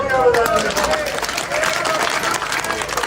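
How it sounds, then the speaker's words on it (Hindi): Loud, dense applause from a crowd at a political gathering, many hands clapping steadily for about three seconds with a faint murmur of voices underneath. "जोरदार तालियां बजाएं।"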